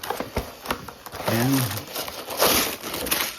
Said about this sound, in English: let's go ahead and open this set up